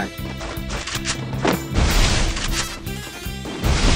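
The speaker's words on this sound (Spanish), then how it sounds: "porque esos disparos no fallan" Loud video game gunshots crack and boom in quick succession over a steady musical background, each shot a sharp, close burst with a heavy impact.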